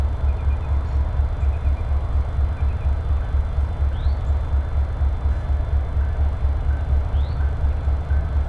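A Norfolk Southern train rolls steadily along the rails at DeButts Rail Yard, a continuous low rumble with rhythmic pulsing and a couple of faint high squeals.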